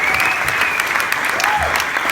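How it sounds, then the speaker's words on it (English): An audience gives a round of applause, dense clapping steady and fairly loud for the whole short stretch, with no talk over it. "So, give a round of applause."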